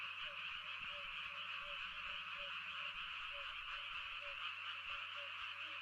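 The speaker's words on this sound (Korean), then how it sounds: "청개구리가 참 많이도 슬프게 울지요." Tree frogs croak in a dense, steady chorus, with rhythmic pulsing calls repeating throughout at moderate distance, with no voices.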